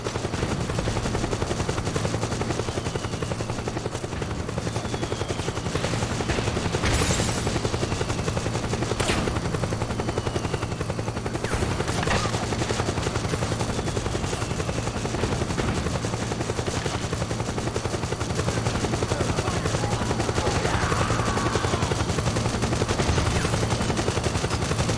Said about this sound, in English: It's like the chopper's just stalking me, dude.